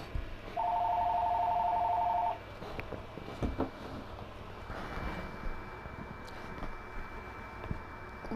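A phone rings once with a steady electronic tone lasting about two seconds. Low, uneven room noise follows once it stops.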